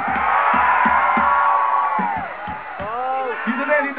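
A concert crowd at a live show shouts and cheers loudly, a dense roar of many voices with whoops and rhythmic chanting and thumping, continuous and close.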